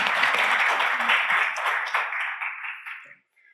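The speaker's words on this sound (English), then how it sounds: "So first, I get a round of applause for the three." Applause for three award winners at a leadership event, a dense crowd clapping steadily before it thins and fades out near the end.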